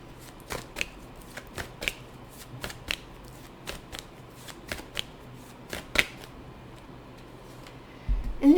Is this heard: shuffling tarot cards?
yes